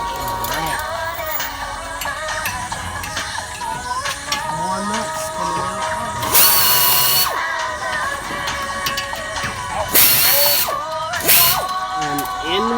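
A power tool works exhaust bolts loose on an Acura NSX, with repeated whirring and ratcheting bursts, two louder spells of buzzing, and clinking metal close by. Someone talks intermittently over the work.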